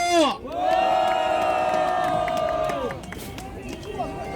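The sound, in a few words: crowd cheering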